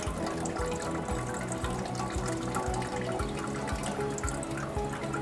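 Water runs and splashes steadily over homemade butter being rinsed and strained, a continuous close rushing with small irregular drips and bursts, no voices.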